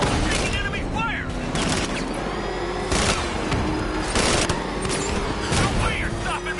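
Sustained enemy gunfire in a Batman video game, dense bursts and volleys layered with mechanical clatter and booms, loud and continuous throughout with a dense action-game background.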